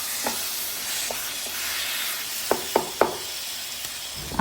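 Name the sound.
stirring spices into olive pickle in a pan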